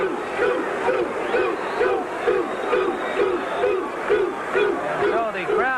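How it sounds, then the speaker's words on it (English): Fans of Thomas Hearns at a boxing match chant a rhythmic, repeated crowd cry in steady pulses that fill the arena throughout. "the crowd here of Hearns fans chanting 2-2-2"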